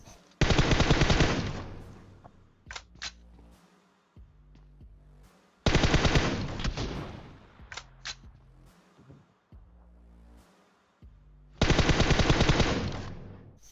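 Rapid automatic gunfire from PUBG Mobile in a 16-versus-squad match, loud bursts of machine-gun fire repeating about every five seconds with brief clicks and mechanical sounds between, no talking.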